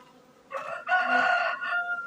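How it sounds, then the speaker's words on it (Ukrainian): A neighbour's rooster crows twice, near and loud, the second call longer and drawn out, with no talking over it. "Охренів сусідський півень, хоче зі мною розмовляти, перегукуватись."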